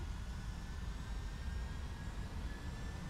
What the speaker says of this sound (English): let the engine spool up